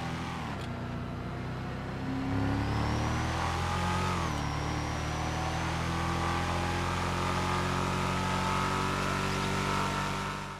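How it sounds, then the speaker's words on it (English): The Drifty car in GTA Online revs steadily, its turbo whistle rising and spooling up over a loud, continuous engine drone. Pitch climbs smoothly with a brief dip midway. "The sound of the turbo spooling up in this car is so apparent and is the highlight of this car."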